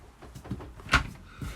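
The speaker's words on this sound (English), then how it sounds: "you can shut it off with a solid door as you see there" A solid interior door in a 2021 Coachman Laser XCEL 845 caravan clicks shut once, a close, sharp thud amid light handling noises.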